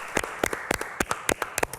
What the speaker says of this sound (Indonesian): Saya minta yang ada di studio kita beri tepuk tangan dulu untuk Mbak Nora.